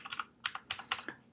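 Quick bursts of typing on a computer keyboard, with clustered key clicks in an irregular rhythm and short pauses between groups, close and fairly quiet with no talk.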